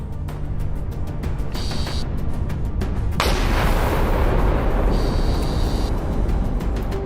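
A T-90M tank struck in combat, its ammunition cooking off: a steady, loud roar of blasts and crackling with sharper bursts partway through, continuous for several seconds with no speech.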